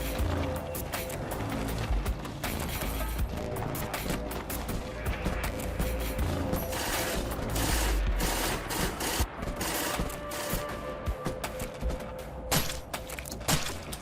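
Dense, continuous gunfire and explosions fill a cinematic Bolt Action wargame battle, with overlapping rifle and machine gun bursts and sharp cracks throughout, and a voice appears to narrate over the din.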